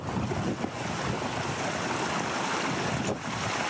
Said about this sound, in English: Water gushing out of the CrossFit ATR in Mission Valley during yesterday's storm.